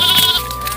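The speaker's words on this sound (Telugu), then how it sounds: "ఇక్కడేదో గొర్రె పిల్ల వినబడుతుంది" A lamb gives one short, clear bleat that fades within the first half-second. A steady faint background tone continues after it, and no one speaks.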